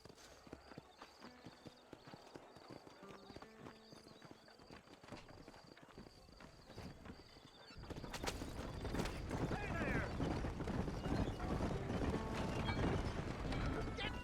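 Horse hooves from the video game Red Dead Redemption clip-clop steadily under game sounds, the gait louder and denser over the second half, with a brief whinny and occasional creaks and mechanical clicks.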